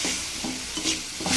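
Red amaranth greens being stir-fried in a pan, a short burst of soft sizzling broken by quick scrapes of a spatula.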